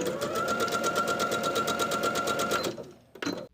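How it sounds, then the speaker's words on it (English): A sewing machine stitches a tee shirt neckband in a fast, even mechanical whir with a regular needle rhythm, running close and loud for most of the clip before stopping, followed by a short burst of handling. "And if you're using your sewing machine,"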